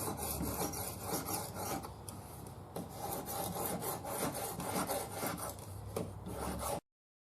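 Continuous rhythmic scraping of a knife edge stroked across a sharpening stone to flatten the burr, steady close strokes with no talking.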